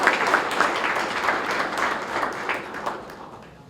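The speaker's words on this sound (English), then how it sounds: "Let's give them one more round of applause." Audience applause for police officers at an award ceremony, a dense, steady wash of clapping from many hands that gradually thins and fades toward the end.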